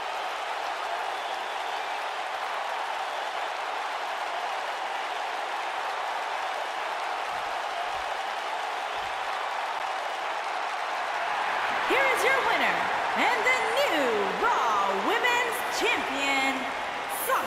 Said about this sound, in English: Listen to this Detroit crowd.